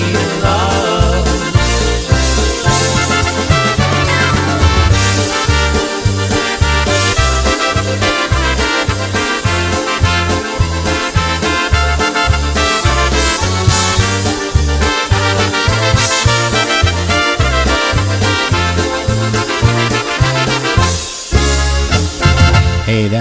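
A full-band polka song recording with vocals, played loud and continuous: a bouncing oom-pah bass and drum pulse, accordion and brass melody lines, and singing over the steady dance rhythm throughout.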